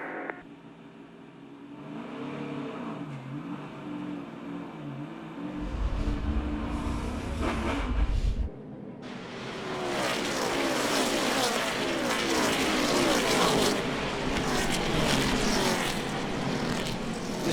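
Darrell Wallace Jr.'s NASCAR Xfinity Series race car roars loudly from the cockpit, briefly drops off as he lifts from the throttle, then surges back into a harsh, sustained full-power engine howl.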